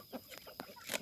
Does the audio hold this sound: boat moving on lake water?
no